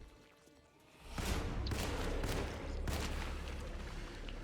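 Gunfire from the horror video game Alone in the Dark: a loud burst of shots starts about a second in, with a second sharp crack later and continuous booming echo between them.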